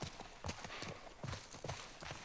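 Quiet, steady clip-clop of a horse's hooves in The Last of Us Part 1, a rhythmic walking pace heard faintly over low ambient background.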